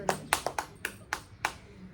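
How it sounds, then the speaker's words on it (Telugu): A small family group claps after a win at a dice board game at home: six or seven sharp, quick claps in an uneven burst, close by, fading into quiet room sound. "క్లాప్స్."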